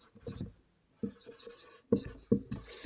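Writing on a board in a chemistry class: short scratchy strokes come in bursts separated by brief pauses, close and fairly clear, with no talking.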